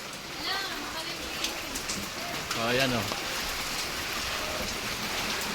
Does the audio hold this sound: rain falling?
yes